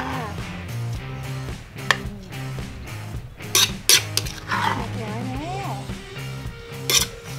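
A pestle thumps and clatters in a mortar while spicy green mango salad is pounded, irregular knocks with sharp utensil clinks and scraping, busy kitchen noise with faint voices.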